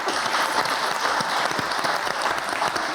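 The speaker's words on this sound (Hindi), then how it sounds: "तालियां नहीं बजानी थी" A studio audience at a comedy talk show breaks into loud, dense, sustained clapping, close and steady throughout with no speech over it.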